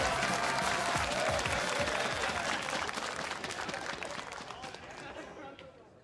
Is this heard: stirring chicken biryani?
no